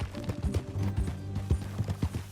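Rhythmic clip-clop of horse hooves at a trotting pace in the video game Red Dead Redemption II, over a low tonal background hum, close and clear.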